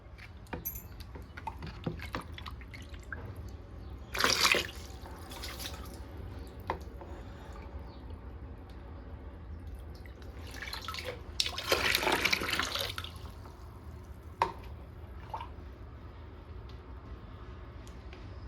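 Water flows and drips outdoors where a child plays in it, a soft steady trickle with scattered drips and two louder splashy gushes, heard fairly close.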